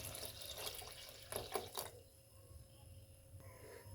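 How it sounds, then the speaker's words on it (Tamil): Water poured from a tap or vessel into lentils in a pressure cooker, a steady splashing rush up close that cuts off partway, leaving a quiet kitchen background. "இப்போ பருப்புக்கு தேவையான அளவு தண்ணி ஊற்றிக்கலாம்."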